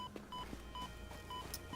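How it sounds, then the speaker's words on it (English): Repeated short electronic beeps from a warning alarm in the video game Satisfactory, sounding at a steady rhythm of a few per second over a low background hum, moderately loud and with no talking. "Otherwise it's going to keep beeping at me"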